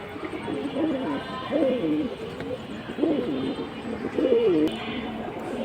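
High-flying domestic pigeons, a barred pair, coo softly and repeatedly in a loft, with warbling calls rising and falling over low steady background noise.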